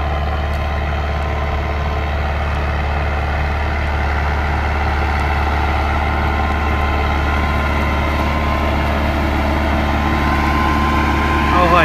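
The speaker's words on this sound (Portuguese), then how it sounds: "será que o John Deere 115 ronca? Só um pouco, né? Olha a pressão desse trator." A John Deere 115 tractor working a cornfield during planting, its engine giving a loud, steady, deep drone with a constant low rumble that holds throughout.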